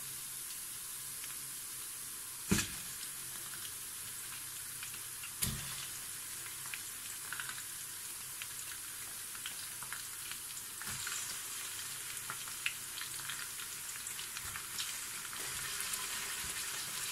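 Coarse chunks of back-cut meat going into a pan with onion and peppers for Tunisian winter couscous, a faint steady frying hiss broken by two sharp clatters early on and light scattered clicks.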